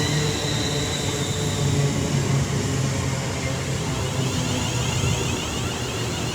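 A British Rail Class 350 electric train passing through Lichfield Trent Valley station, a loud, continuous rumbling roar of wheels and traction hum with a steady whine, close by and unbroken.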